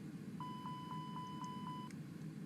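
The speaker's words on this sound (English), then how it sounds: "there will be a beeping sound like this" A steady, faint electronic warning tone for an A320 engine fire test in a flight simulator game, pulsing rapidly about six times over a low background hum before stopping.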